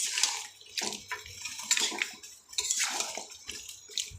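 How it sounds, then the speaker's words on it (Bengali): Spiced masala water is poured into a pot of duck curry, giving faint splashing and trickling in uneven bursts with a few light clinks of utensil against the pot. "আর একটু জল দিয়ে দিন এর মধ্যে, পুরোটাই দিয়ে দিলাম।"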